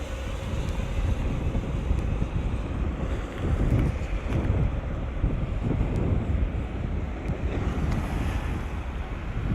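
Strong wind gusts over open water along the shore, buffeting the microphone in a continuous roar with surf-like washing underneath, loud and unbroken throughout.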